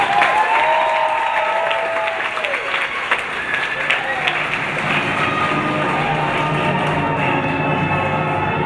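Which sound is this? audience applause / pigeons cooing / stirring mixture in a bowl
audience applause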